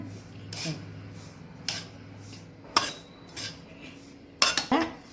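A spoon stirs a thickening maida barfi mixture in a metal pan, producing several separate scraping clanks spaced irregularly, close and fairly loud against a quiet room, with no talking.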